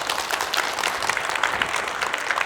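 A lecture audience at an invited talk in Yeongju claps in a steady, fairly distant patter that holds evenly from start to finish.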